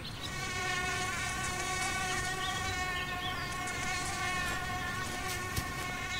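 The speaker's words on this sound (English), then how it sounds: "the swarms of mosquitoes are extremely annoying" A swarm of mosquitoes buzzes in flight, a steady, high-pitched layered whine that hums continuously and close with no break.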